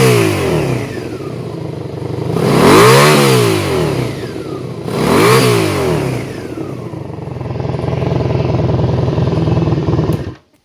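A 1987 Honda Magna VF700C with a drilled exhaust revs hard twice toward 7,000 rpm, each throaty rise and fall standing out over a steady loud idle that cuts off sharply at the end.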